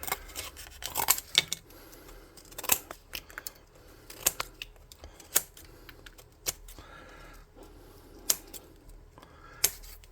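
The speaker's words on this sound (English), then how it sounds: "Then I'm going to get scissors, and those ones are pretty dull, so I'm going to get a sharper pair." Sharp, irregular snips of sharp scissors cutting around a craft model, close up, with short pauses and faint rustling between the crisp clicks.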